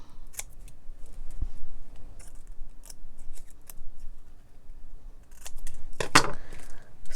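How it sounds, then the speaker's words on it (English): Scissors snip through a paper napkin in short, sharp cuts spread unevenly, close and fairly loud, with one quick burst of snipping near the end. "so I'm going to cut it in the middle"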